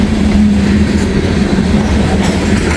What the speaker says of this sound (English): There goes some grain train headed south.